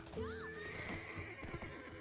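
Horse hooves clop steadily in Black Desert Online while a mount gives a rising and falling whinny near the start, all fairly close and layered over a continuous game ambience.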